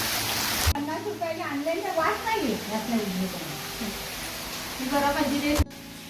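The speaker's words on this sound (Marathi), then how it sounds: "मंडळी किती पाऊस पडतोय जोरदार" Heavy rain pours down in a Konkan village during the monsoon, a dense steady hiss of falling water continuing under a person talking throughout.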